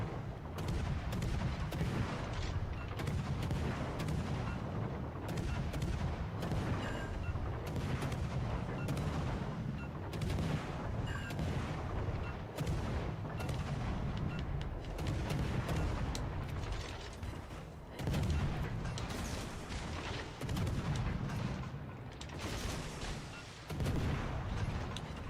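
Dense, continuous warship gunfire and mechanical clatter in World of Warships: Legends, with booming shots, rattling and grinding machinery running nonstop at high volume, no talking heard.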